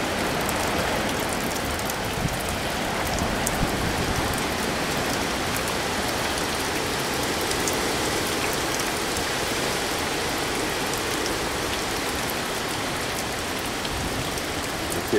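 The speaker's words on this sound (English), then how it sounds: "There comes another big gust of wind." Heavy rain pours steadily during Hurricane Irene, a dense close hiss of drops on surfaces that holds constant for the whole stretch, with gusting wind blended into the roar.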